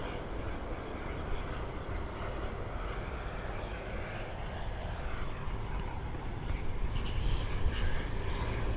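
A Philippine Airlines airliner at Sydney Airport rumbles steadily from a distance, a broad low engine roar that swells slightly toward the end, with brief faint bursts of other noise over it.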